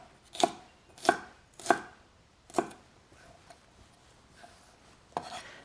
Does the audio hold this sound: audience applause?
no